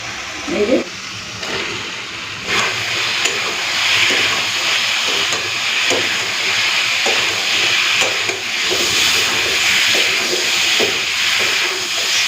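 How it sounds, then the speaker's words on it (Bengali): Fried potatoes and pointed gourd go into a spice paste cooked with sugar until the oil separates, then are sautéed. A loud, steady hiss and sizzle fills the whole stretch, with scattered stirring clatter. "এখন দিয়ে দেবো ভেজে রাখা আলু আর পটল"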